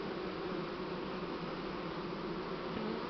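A swarm of honeybees hums in a continuous close, dense buzz on a cool spring day, steady and unbroken with no voices.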